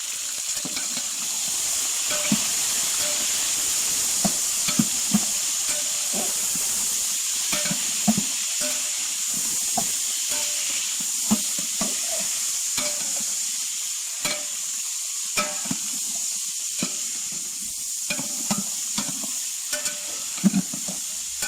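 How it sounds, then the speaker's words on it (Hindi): Chicken sizzles in a pan of browning onions for white chicken pulao, a continuous frying hiss punctuated by frequent scraping stirs and small clinks at an uneven pace. "तो अभी जो है ना हम इसमें जो हमने चिकन लिया था वो चिकन डालेंगे।"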